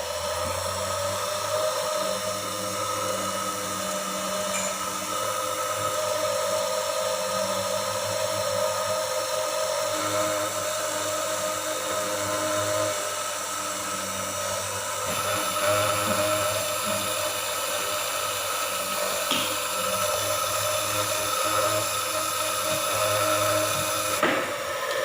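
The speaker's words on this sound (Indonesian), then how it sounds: "Pengeboran lubang atau pin-pin yang ada di PCB ini kita bor menggunakan bor duduk" A steady high-pitched whine of a small bench drill with a 0.8 mm bit runs continuously, with faint grinding and scraping as it bores holes through a PCB, no voices.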